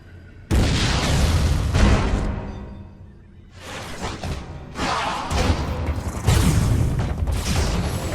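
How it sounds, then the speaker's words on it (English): Missile explosions in the video game Metroid Other M sound as loud booming bursts with whooshing tails, one hit landing after a quiet lead-in and more blasts following in close succession. "Why not say hello with a missile?"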